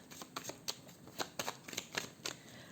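Tarot cards are shuffled and cut close up in a quiet room, making a quick series of soft flicking riffles and light slaps in an irregular rhythm.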